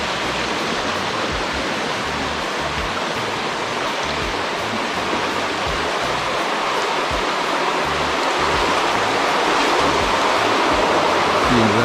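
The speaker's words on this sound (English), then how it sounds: "They actually have a tunnel and the water comes through the tunnel." River water rushes steadily through a tunnel at an outdoor spot in Bluefield, Westmoreland, a dense continuous roar with no pauses and no voices, holding even throughout.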